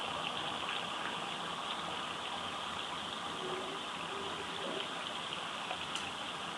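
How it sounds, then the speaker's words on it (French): Steady, soft rainfall heard from behind a window with an even hiss, faint and continuous throughout, no voices. "d'entendre la pluie qui tombe"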